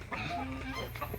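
Breeder chickens clucking and calling close by at feeding time, a steady flock chatter of overlapping cackles with no talk.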